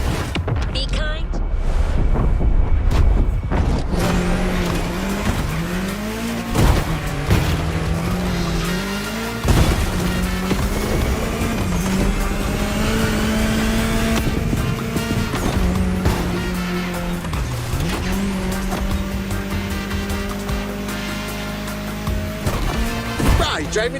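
An open-world racing game, The Crew Motorfest, with a car driving through a state capital. A loud engine steadily shifts pitch, with tire squeals and skids over continuous music or effects, and a voice talks over it.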